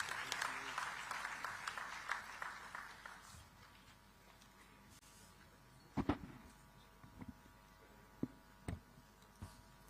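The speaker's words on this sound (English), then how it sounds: "Let us all express our appreciation with a thunderous round of applause" An audience at a digital technology summit applauds as a speaker takes the stage, a dense wash of clapping that fades after a few seconds into scattered claps and room noise.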